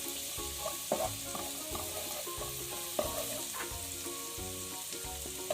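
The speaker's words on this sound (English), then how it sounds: "finely chopped up garlic, stir them around" Finely chopped garlic sizzles in a pan, a soft continuous crackle with a spoon stirring and scraping in occasional strokes, quiet and close with no voices.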